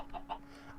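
Two short, quiet clucks from a chicken dying in Minecraft Sky Factory 3, a quick clipped pair of game sound effects over a faint steady hum.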